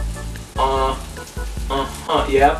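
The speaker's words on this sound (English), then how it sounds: "Now the sugar is sizzling with the meat." Sugar dabbed onto chicken sizzles in a hot frying pan, a steady crackling hiss throughout, partly under a voice speaking briefly.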